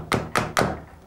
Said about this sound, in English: Tap the head slightly until you feel it's coming out of the shell.